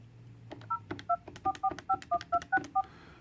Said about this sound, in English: To place a call, just dial 9 and your number